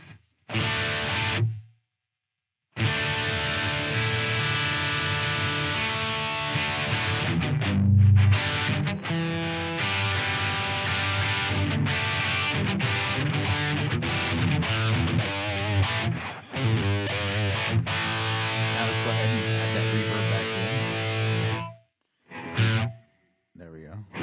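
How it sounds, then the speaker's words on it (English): Electric guitar played with dry distortion, chords and riffs with no reverb, broken by a few brief silent gaps. "here's just straight dry distortion"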